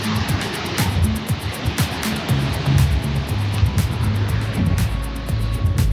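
Ocean waves heard from the open deck of the Carnival Luminosa cruise ship, a steady broad rush of water and wind with gentle surges, fairly loud and continuous without talk.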